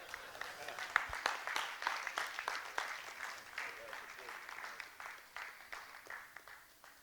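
Audience applause at a public talk on addressing inequalities, a steady patter of many hands clapping continuously, moderately distant and even, with faint voices beneath.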